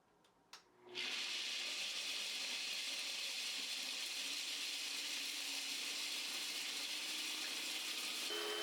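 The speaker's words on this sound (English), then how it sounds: "I figured it out and we started blending" A food processor blends almonds into almond butter, starting after a couple of faint clicks and then running as a loud, steady, gritty whir that continues unbroken to the end.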